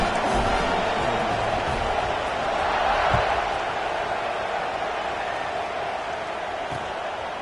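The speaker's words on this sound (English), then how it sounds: "this crowd is buzzing after that last score" A football stadium crowd keeps up a loud, steady roar and buzz following a touchdown, a dense wall of many voices sustained throughout with no clear breaks.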